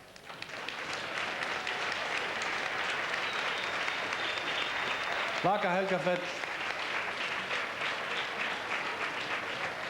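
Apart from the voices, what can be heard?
audience applause welcoming a songwriter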